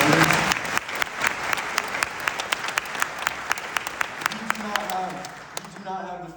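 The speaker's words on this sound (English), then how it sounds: "I just want to one more clap it up for all the soldiers right here." An audience at a talk with an IDF veteran claps for soldiers: a mass of applause with several sharp, close individual claps standing out, fading near the end as a voice begins speaking.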